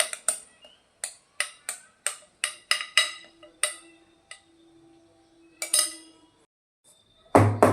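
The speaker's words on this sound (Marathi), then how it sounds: "थोडं टॅप करून घ्यायचं म्हणजे त्यामध्ये जे काही हवा असेल निघून जाईल" A greased cooker tin filled with rava dhokla batter is tapped against a hard surface: a quick run of about a dozen sharp metallic knocks at an uneven rhythm, a pause, two more taps, then a louder clatter at the end.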